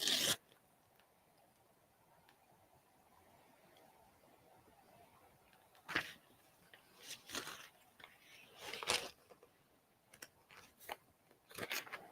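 Paper torn out by hand for collage-style abstract art gives a run of quiet, quick ripping bursts after a long near-silent stretch. The ripping is irregular and close.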